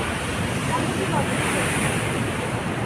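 Steady broadband wash of beach waves on an Independence Day outing, a continuous roar with wind buffeting the microphone and no distinct breaks.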